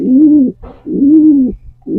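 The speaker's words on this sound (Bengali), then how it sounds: "সুন্দরভাবে পায়রাগুলো ডাকছে" Two long, throaty pigeon coos with a short break between them and the start of a third, loud and close with no other sounds.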